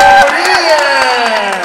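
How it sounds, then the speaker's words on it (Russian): Arena crowd cheering and applauding after a combat-sports fight, with loud roaring and clapping while an announcer talks over it through a reverberant PA. "Ну что ж, зал взрывается аплодисментами."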